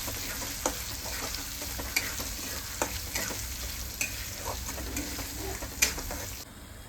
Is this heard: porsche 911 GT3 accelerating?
no